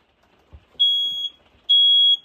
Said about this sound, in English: watch that smoke alarm